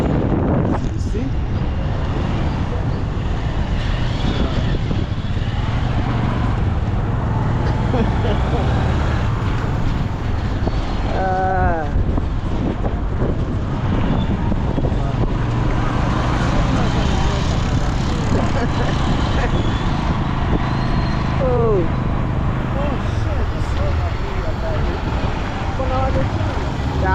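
A motorbike rides through town, the engine's hum mixing with constant wind buffeting on the microphone and the passing traffic around it, while a rider talks over the noise throughout.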